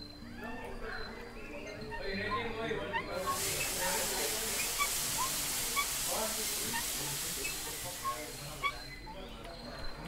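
Steam hisses loudly in the game Gray Dawn, a broad continuous rush that starts abruptly partway through and then cuts off, over lower background game sounds and chatter.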